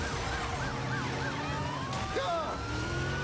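A police siren from a Crown Victoria cruiser in the Driver San Francisco video game wails in repeated rising and falling sweeps over steady engine and road noise, moderately loud beneath the game's driving sounds.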